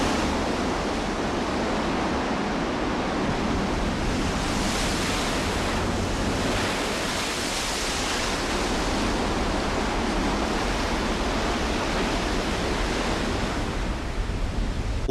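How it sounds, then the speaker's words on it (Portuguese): Winter wind storm lashing a cape bay, with heavy surf and roaring gusts forming a dense, continuous wash of noise that swells slightly and never lets up, no voices present. "No limiar do inverno, outra tempestade castiga a Baía desse Cabo."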